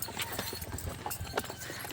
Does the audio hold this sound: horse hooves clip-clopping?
yes